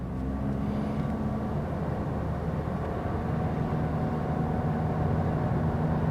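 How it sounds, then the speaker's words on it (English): Car with a continuously variable transmission pulling away from a green light, its engine holding a steady drone at constant revs with road and cabin noise, no gear changes, no voices. "watch, I'm gonna press the throttle"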